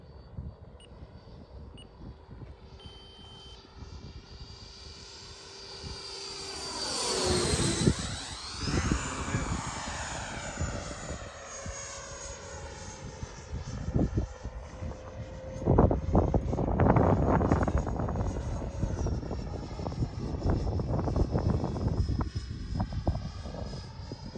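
A Freewing MiG-29 RC model jet comes in to land at half throttle with gear and flaps down, its ducted-fan whine sweeping downward as it passes overhead, then a steady roar with wind buffeting the microphone.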